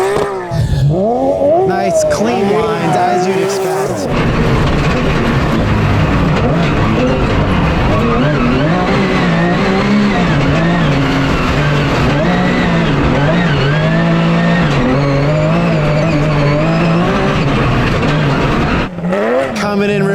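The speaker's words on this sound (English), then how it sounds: "Coming through there, you can hear the sequential transmission working." A Porsche GT3 Cup race car with a sequential transmission runs a dirt rally stage, its engine loud and close, revving hard through repeated rising and falling pitch sweeps as it shifts, while a commentator talks over it.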